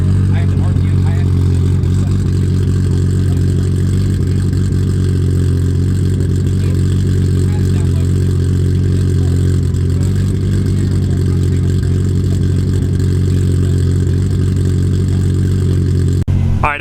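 A Toyota Supra engine drones steadily and loudly at a constant pitch while driving, a dense low hum that barely changes for most of the stretch, close up, with no clear talking.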